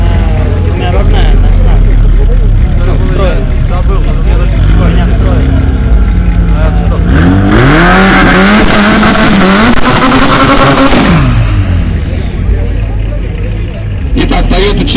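A Toyota Chaser with a 3-litre twin-turbo engine and about 360 horsepower revs hard at a drag race against a Moskvich, with loud sustained engine roar and a rising, then falling rev sweep under an announcer's voice.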